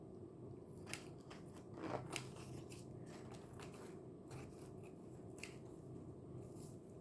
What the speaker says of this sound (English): And then I'm just going to cut the little extra glue